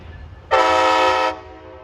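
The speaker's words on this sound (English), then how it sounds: "here it is pulling in" A Brightline train pulling into Orlando station sounds a loud, steady, close horn blast of under a second over low rumbling background noise.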